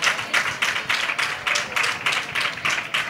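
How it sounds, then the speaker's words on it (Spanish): Steady audience applause on a Spanish fair-themed programme after a woman in a flamenco dress is presented, even rhythmic clapping from a moderately sized crowd throughout, with no voices over it. "Bueno, pues un aplauso."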